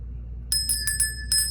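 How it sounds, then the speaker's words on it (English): A small bell rung to cleanse a room chimes in a quick series of four to five bright, metallic dings, clear and close over a low background hum. "let's begin by ringing the bell."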